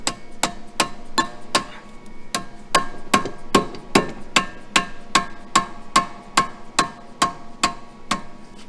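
A hammer strikes suspension bushings on a Ford Mustang in a sharp, evenly spaced run of about twenty loud metallic blows close by, with no talking.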